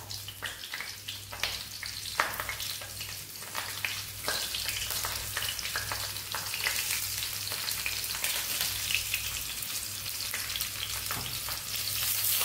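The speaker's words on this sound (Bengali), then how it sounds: "তেলটা ভালো করে গরম করে দিয়ে আমি এটাকে সিমে করে দিয়েছি" Stuffed pointed gourd (parwal) sizzling in hot oil on a low simmer, a steady dense crackle of frying with scattered small pops and occasional stirring noises, close and continuous throughout.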